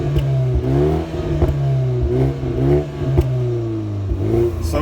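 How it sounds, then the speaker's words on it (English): A BMW 330i in sport mode revs loudly and close, its twin-pipe exhaust giving a throaty rise and fall with repeated pops and crackles, and no talking. "if you put it into the sport mode, then the exhaust makes a bit more noise"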